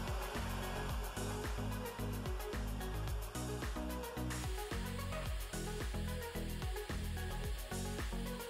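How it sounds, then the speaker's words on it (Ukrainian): A hot air soldering gun on a BAKU BK878L soldering station blows with a steady rushing hiss, close by, heating toward 320–330 degrees, broken by a rhythmic pulsing, with no voices. "Беремо наш фен і чекаємо, поки він набере 320 градусів"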